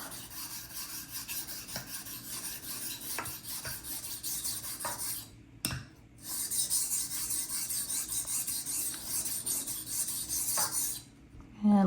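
Knife blade rasping back and forth over a sharpening stone in steady strokes, close and clear, with one brief pause midway and no talking.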